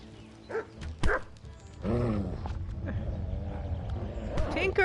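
An Airedale dog in the Kingdom Come: Deliverance video game growls and barks in several close, rough bursts, with a longer snarling stretch in the middle, while a person talks over it.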